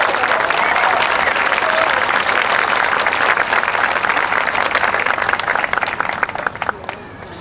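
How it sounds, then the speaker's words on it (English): Applause from the audience at the 2024 West Lampeter Community Fair Queen announcement: dense, loud, sustained clapping from a large crowd for about seven seconds, thinning slightly toward the end. "give them a round of applause"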